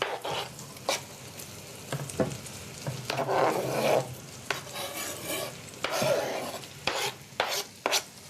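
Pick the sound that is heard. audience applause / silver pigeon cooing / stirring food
stirring food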